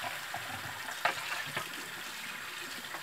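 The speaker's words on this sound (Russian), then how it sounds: "Главное руками вот здесь вот хорошенько теплой водой промыть." Warm tap water runs steadily over a kitchen ventilation grille being rinsed by hand, a soft, quiet splashing wash with a couple of brief louder splashes.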